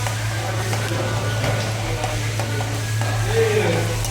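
Onions and green chillies frying in a pan for Telangana-style uggani, a steady soft sizzle running throughout with a low constant hum beneath and a few faint stirring scrapes.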